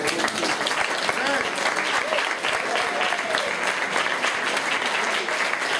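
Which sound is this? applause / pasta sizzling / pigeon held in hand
applause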